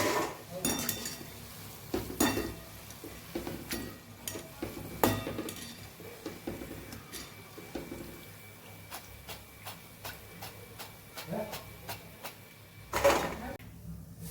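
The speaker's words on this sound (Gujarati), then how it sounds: "આવી જ રીતે આપણે બધા સકરપાતા વણીને ધીમે ધીમે આપણે તળી લેવાના છે" Rolled shakkarpara dough pieces frying slowly in oil, a soft intermittent sizzle with clinks and scrapes of a utensil against the pan; someone talks over it.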